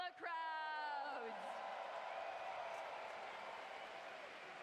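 Crowd at the Pokémon World Championships trading card game Masters Finals cheers and whoops loudly, starting with a sharp rising yell and holding a steady roar of voices throughout.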